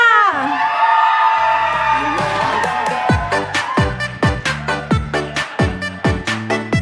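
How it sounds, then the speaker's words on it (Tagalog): A church audience at a thanksgiving service cheers and shouts for contenders, a sustained loud crowd roar followed by a run of rhythmic clapping bursts with whoops on top, no speech in between. "palakpakan at sigawan ngayon na"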